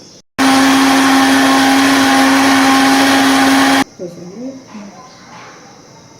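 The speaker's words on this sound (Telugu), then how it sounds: "ఇప్పుడు మిక్సీకి వేసుకోవాలి," A kitchen mixer grinder whirs loud and steady for about three seconds as it grinds peeled cardamom for a sugar banana juice, then stops abruptly and a voice speaks briefly.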